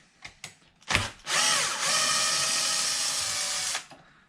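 Power driver whirring briefly, then a sustained ratcheting buzz of about two and a half seconds as body bolts are backed out of a Losi LMT monster truck RC, close and clear.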